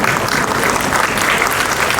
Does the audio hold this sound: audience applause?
yes